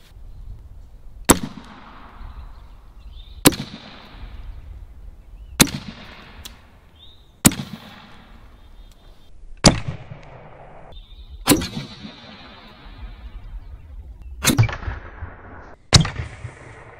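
Western Rattler bullpup air rifle firing pellets and 142, 178 and 125 grain slugs, eight sharp loud shots spaced about two seconds apart, each with a short ringing tail, no talking.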